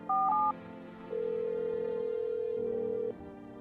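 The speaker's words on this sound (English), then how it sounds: "It's actually ringing." A telephone in the video game No I'm Not Human dials with a quick pair of keypad tones, then a long, steady ringing tone sounds as the call goes through.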